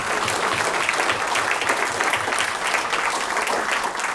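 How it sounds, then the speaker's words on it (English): Steady, dense applause from a sizable crowd at a First Friday event honoring a judge, continuous clapping at an even loudness throughout. "Round of applause for Honorable Judge Dave Belz."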